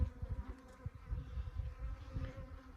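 Bees buzz steadily and close by under a shed floor, a low, wavering hum that swells and dips without pause.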